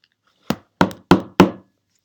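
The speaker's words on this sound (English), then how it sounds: "Toad knocked at the door." Four sharp knocks on a door, close and loud, the first alone and then three in quicker succession, each with a brief hollow ring.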